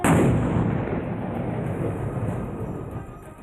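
Controlled detonation of a pressure cooker IED packed with explosives near a highway: one heavy blast at the start, followed by a long rumbling roar that slowly fades, heard from a distance with no voices.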